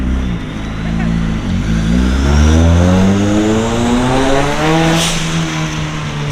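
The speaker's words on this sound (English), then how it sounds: "I want to see a burnout right now." A Nissan S15 fitted with a Nismo six-speed transmission revs hard during a burnout, its engine note climbing steadily and loudly with tire squeal and skidding noise mixed in, close to the listener.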